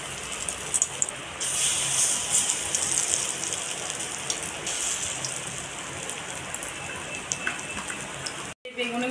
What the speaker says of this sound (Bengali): আবার বেগুনিগুলো তেলের মধ্যে ছেড়ে দেব।